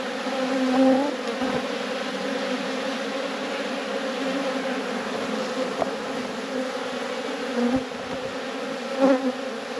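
Honeybees buzz steadily and close during a hive inspection, a dense continuous hum with individual bees swelling louder as they pass near, no voices over it.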